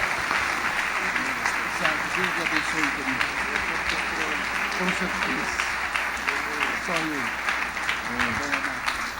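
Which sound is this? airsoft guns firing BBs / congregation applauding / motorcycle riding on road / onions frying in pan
congregation applauding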